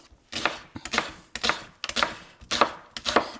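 Knife chopping leeks on a cutting board, six firm, evenly spaced cuts close up, each a sharp crisp thud with no talk over them.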